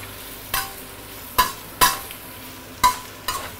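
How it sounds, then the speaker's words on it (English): Egg and bitter melon stir-fried in a pan over heat, with a soft background sizzle broken by five sharp utensil scrapes and clanks against the pan at irregular intervals. "Give it a few stir."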